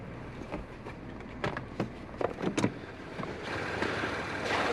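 A 2022 Chevrolet Trailblazer ACTIV AWD heard from inside the cabin while driving gives a steady broadband road and engine rumble with several brief thumps and rattles partway through, moderately loud, with no talk.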